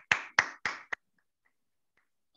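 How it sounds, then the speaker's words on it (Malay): A few sharp handclaps, about four in quick succession, then near silence in a small communication course session. "okey bagus tepukan"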